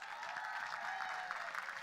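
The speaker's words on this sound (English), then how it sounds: "Please give her another round of applause." Faint, distant applause for someone speaker, an even wash of clapping from an audience that stays steady and low for under two seconds.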